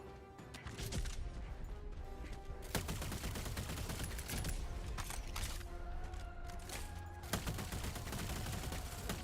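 Rapid bursts of gunfire from the Scorcher weapon in Helldivers 2, fired as fast as the trigger is clicked, dense and continuous at a quiet level with a few sharper reports standing out.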